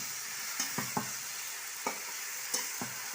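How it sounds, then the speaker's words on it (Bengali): Raw banana and potato pieces fry in a pan with a steady, close sizzle. Occasional sharp clicks and scrapes of stirring break through the sizzle, and no one speaks. "ভাজা চলছে।"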